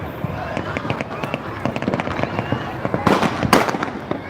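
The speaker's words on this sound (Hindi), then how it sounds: "देख रहे हैं चारों तरफ जो है बम पटाखे की आवाज़ हो रही है" Firecrackers and fireworks crack and pop repeatedly all around during a Chhath Puja celebration, sharp bursts at varying distances with a dense cluster late on, and people talking beneath.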